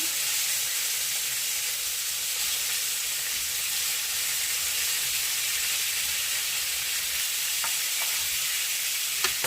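Meatballs for a dish with gravy sizzle and fry steadily in a pan while being turned over, with a continuous close hiss and a few soft clicks near the end; no talking.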